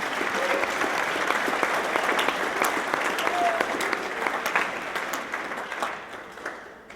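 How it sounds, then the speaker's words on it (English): Sustained round of applause from an audience at an evening university symposium, steady and fairly loud before thinning and fading out toward the end. "I think we should give them a round of applause for putting this together"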